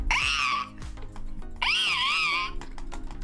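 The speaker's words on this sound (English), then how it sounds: "So the vixens, they sound like this." Two long, shrill, wavering screams from a fox vixen, each lasting under a second with a short pause between, loud and close.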